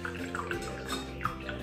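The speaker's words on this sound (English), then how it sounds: "first we're gonna start by adding 5 ounces of water in a bowl" Water runs steadily into a bowl while making fluffy slime, a continuous close splashing stream with faint bubbly gurgles and no talk over it.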